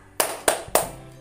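Three sharp hand claps in a steady rhythm, close and crisp, part of a children's motorcycle-themed clapping game, with a faint voice in the background.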